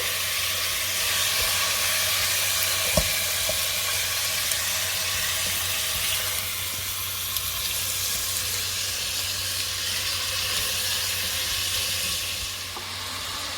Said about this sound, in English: So let's just fry this nicely.